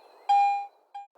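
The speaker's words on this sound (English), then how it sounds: "The third tone is either a bell tone or high tone, depending upon the operating mode." A Garrett AT Pro metal detector's bell tone: a clear ringing electronic chime, one longer tone that fades and then a shorter repeat, bell-like and pure over a faint hum.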